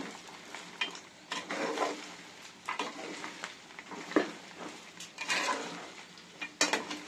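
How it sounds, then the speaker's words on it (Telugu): Chicken pickle with ginger-garlic paste being stirred in a pot, with a spoon scraping and clinking against the metal over a soft oily sizzle, in uneven strokes that come close and clear. "సరే, మొత్తం అల్లం తెల్లగడ్డ పేస్ట్ ఉంది కదా, అది మొత్తం కలిసిపోయేలా కలిపేస్తున్నాం."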